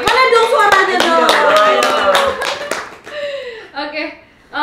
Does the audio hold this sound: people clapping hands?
yes